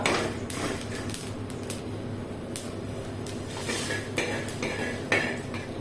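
Roasted puffed rice being moved out of a pan onto a plate, with repeated metallic clinks and scrapes of a utensil against the cookware, fairly close and moderately loud, with no speech.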